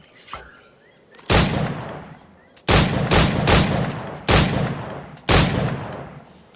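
Gunshots fired at target dummies in Assassin's Creed Black Flag, several loud, booming reports spaced a second or so apart, each ringing out and fading before the next, against quiet outdoor ambience.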